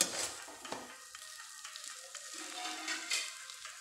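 Rohu fish with taro stolons frying on banana leaf in a kadai gives a steady sizzle and crackle with a few sharper pops and stirring clatters, close and continuous with no talk.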